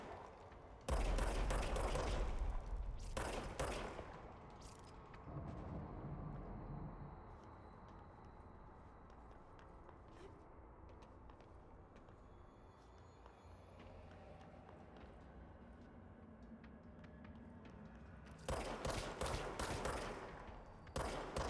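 Gunfire in the video game Control comes in two loud, rapid volleys, one near the start and another near the end, separated by a long stretch of low ambient rumble and faint game sounds, with no voices.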